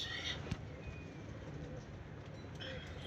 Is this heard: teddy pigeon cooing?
yes